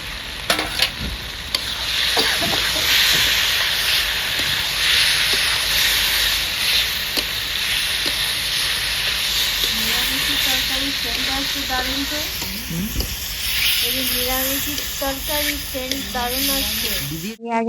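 Peas tip into a hot pan for a vegetarian potato-pea dish and set off a loud, continuous sizzle and hiss close up. Stirring clatters through it and a voice talks over the frying.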